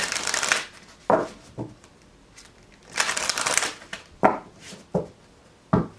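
A deck of cards is shuffled in several bursts: two long riffling runs and a handful of short, sharp snaps and taps between them.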